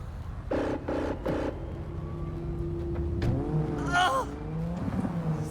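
A car engine in Cyberpunk 2077 hums and revs while driving, with a brief voice at the start and some tonal chimes and squeals layered over the motor.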